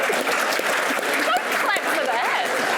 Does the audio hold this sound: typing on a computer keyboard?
no